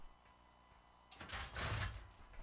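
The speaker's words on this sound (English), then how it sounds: "I hear a bunch of doors still open and closing." Doors opening and closing inside a maze in the video game ARK, a heavy sliding rumble with a grinding scrape, faint at first, then swelling loudly for about a second before fading.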